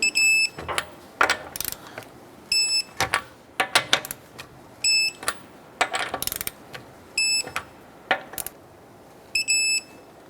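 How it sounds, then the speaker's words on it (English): Torque wrench tightening lug nuts on a 2008-2012 Honda Accord during front tie rod work: short ratcheting bursts alternate with repeated high electronic triple beeps in a steady on-off rhythm, close and fairly loud, with no talking. "Let's go ahead and torque down our lug nuts to 80 foot-pounds"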